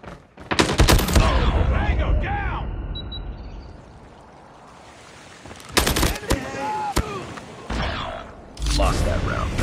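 Rapid gunfire bursts in Call of Duty Mobile, loud automatic fusillades with sharp shots in repeated clusters, a quieter lull in the middle, then more firing toward the end, alongside game voice lines.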